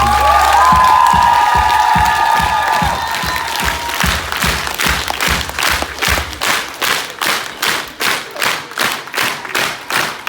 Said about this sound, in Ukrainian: оплески нашим захисникам і захисникам